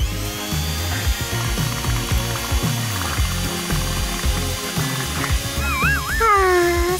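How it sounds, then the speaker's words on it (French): Handheld electric mixer beating a mixture for a jelly cake after the bowl comes off a bain-marie, a steady whirring buzz running throughout beneath loud background music. "Il est temps de retirer le bol du bain-marie et de le mélanger à nouveau en utilisant un batteur à main."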